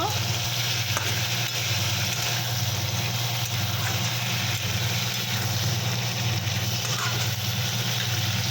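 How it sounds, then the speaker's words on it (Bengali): Crab pieces fry lightly in hot oil, giving a steady, even sizzle that holds at moderate loudness from start to finish with no talking. "বেশি ভাজবো না হালকা করে ভাজবো"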